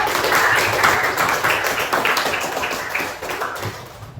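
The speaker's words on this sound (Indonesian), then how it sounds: "tepuk tangan dulu" Classroom clapping as students applaud a classmate during a lesson, a dense patter of many hands at steady loudness that thins slightly toward the end.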